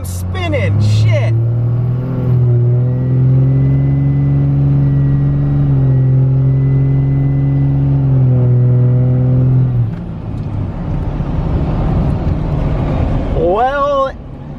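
Cummins diesel truck accelerating from a standstill toward 60 mph, a loud steady engine drone rising slowly in pitch for about ten seconds, with a voice speaking near the start and end.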